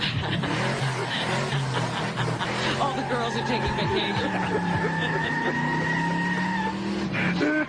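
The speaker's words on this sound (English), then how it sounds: "all of a sudden you hear the cars" Comedy sound effect of cars racing and skidding: engines roar and tires squeal in long drawn-out screeches for several seconds, loud and up front, with someone talking over the noise.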